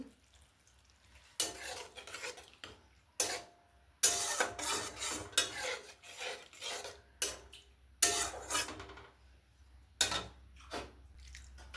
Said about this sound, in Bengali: এটা একটু জল দিয়ে গুলিয়ে নিচ্ছি।